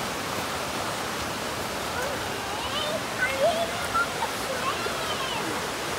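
Hoghton Bottoms waterfall roars as a steady, loud, broadband rush that fills the whole stretch. A few faint brief voices rise briefly over it near the middle.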